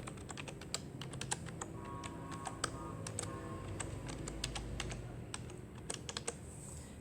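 Typing on a computer keyboard while filling in an online tax registration form, with a steady run of light clicky keystrokes and a few sharper key taps, close up and alone without speech.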